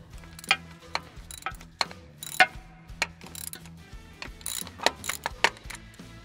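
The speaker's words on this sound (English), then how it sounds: "Now we'll remove the three 15 millimeter bolts that hold the transfer case motor on." A ratchet wrench clicks close by as 15 mm bolts are removed from a Chevy Silverado transfer case motor, with quick bursts of ratcheting and sharp metallic knocks arriving in an uneven rhythm.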